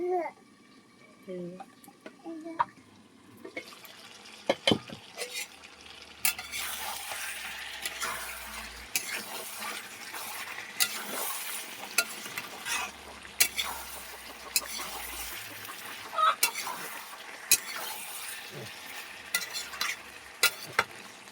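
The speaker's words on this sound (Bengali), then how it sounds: "মাংসটাকে আমি ভালো করে কষাবো" Chicken meat sizzles steadily in a hot pan while a utensil scrapes and knocks through it in repeated stirring strokes, with faint voices now and then.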